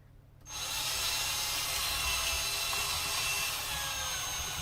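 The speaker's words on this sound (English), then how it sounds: "wiggling the drill around like that is I'm doing my best to try to bore it out enough to where it's wide enough" A power drill bores into wood, starting abruptly after a moment of quiet and then grinding steadily and loudly without a break.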